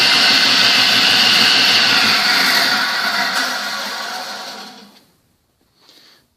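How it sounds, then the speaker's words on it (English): The continuous-duty motor of a 1948 AMT table saw runs with a smooth, steady hum and whir, then winds down and falls quiet near the end. "Real nice smooth operation from this continuous duty motor."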